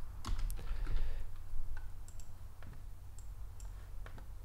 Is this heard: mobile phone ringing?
no